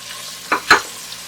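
Chopped taro root, 300 grams, tipped into hot oil with turmeric for an arvi keema, giving two short bursts of sizzling and stirring over a quiet pan hiss, the second louder and longer.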